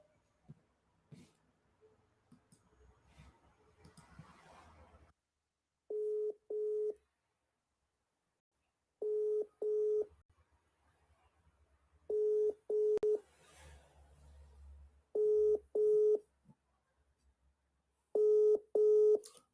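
Telephone call signal: paired tone beeps repeat at regular intervals, each pair a short steady tone, clear and prominent over near silence with faint rustling between.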